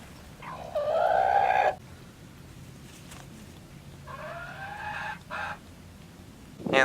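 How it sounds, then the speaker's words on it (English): Chickens at a historic log cabin farm site give two bursts of clucking and squawking calls, the first louder and closer and the second softer, separated by quiet outdoor background noise. "And these are the Lincoln chickens."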